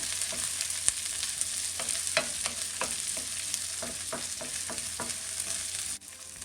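Peppers and corn fry in a hot pan with a steady sizzle, broken by repeated scrapes and clacks of stirring at an irregular rhythm. No one talks.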